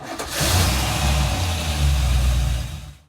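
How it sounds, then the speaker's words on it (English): MerCruiser boat engine with a bogging, hesitating problem starts up and runs, a loud low rumble rising quickly to a steady idle around 1000 RPM, close to the microphone, then cutting off at the end. "So let's turn the engine on and see what it reads."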